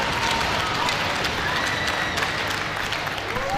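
At a prospect showcase hockey game, Chicago against Minnesota, the crowd and the team benches salute two fighters with steady, loud applause and cheering. The noise is dense and continuous throughout, with no clear talking over it.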